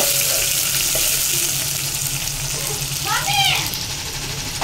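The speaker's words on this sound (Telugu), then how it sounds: "కట్ చేసుకున్న ఆనియన్ వేసుకొని బాగా వేయించుకోవాలండి" Chopped onions and green chillies fry in oil in a pan, giving a dense, continuous crackling sizzle with occasional stirring, close and loud throughout; a brief voice rises over it near the end.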